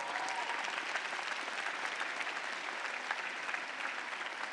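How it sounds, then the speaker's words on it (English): Sustained audience applause at a 2017 graduate school commencement ceremony, a dense, even wash of many hands clapping at moderate distance without a break. "Yes, give them that round of applause."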